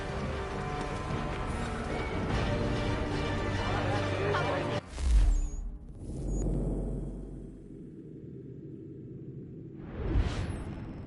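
Horses in the video game Assassin's Creed 3 clip-clop and neigh amid busy game ambience, with swooshing bursts and a low rumble between the hoofbeats.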